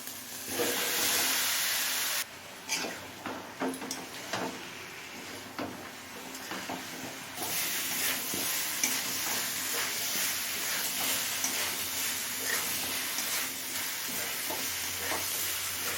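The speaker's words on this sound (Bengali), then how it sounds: "ব্রোকলি দিয়ে সমস্ত কিছু আরও মিনিট তিন চারেক কষিয়ে নিলাম" Fried broccoli stirred in a pan with potatoes, salt and spices for a broccoli paneer curry: a steady, close sizzle runs throughout, broken by frequent scraping stirs and brief clatter, with no voices.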